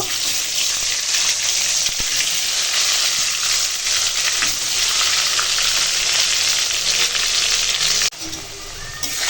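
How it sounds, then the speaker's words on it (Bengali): Potatoes sizzle steadily in hot oil for curry with chicken, a dense, continuous, close-up frying hiss that dips briefly near the end. "এখন মাংসের আলুটা ভেজে নেব।"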